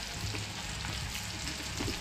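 Leafy greens, palak and lal bhaji, sizzle while sautéing in a pan, a steady soft frying hiss with faint stirring, no voices.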